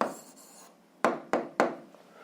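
A pen writes an answer to a seventh-grade algebra problem on paper: one soft scratchy stroke, then three quick, sharp strokes spaced about a third of a second apart, close and otherwise quiet.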